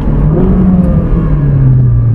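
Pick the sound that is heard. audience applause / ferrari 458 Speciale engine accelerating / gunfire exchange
ferrari 458 Speciale engine accelerating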